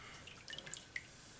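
Excess custard egg wash drips into a flat container, a few faint, soft, separate drops in a quiet setting with no talking.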